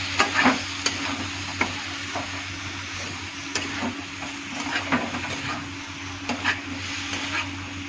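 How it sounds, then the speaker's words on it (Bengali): Boiled potatoes are stir-fried with spices in a pan. Steady sizzling runs under repeated scraping stirs, with a low constant hum beneath. "এখন একটু ভাজা ভাজা করে নেব।"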